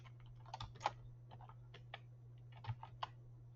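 Keys on a computer keyboard are tapped in a short, irregular run of quiet clicks over a faint steady hum, with no voices.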